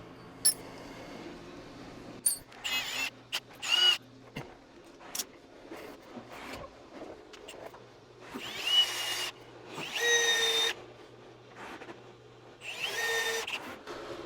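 A power drill whirs in repeated bursts while drilling holes for a trailer hitch on a school bus, several short runs followed by longer sustained grinding passes, fairly close and loud, with brief pauses between.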